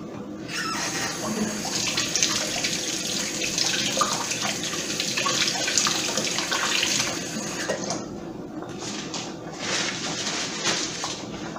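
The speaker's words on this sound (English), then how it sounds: "I'm gonna wash my hands really fast" Tap water running into a kitchen sink while hands are washed during ramen cooking, a steady close splashing flow that briefly thins near the end, with faint voices underneath.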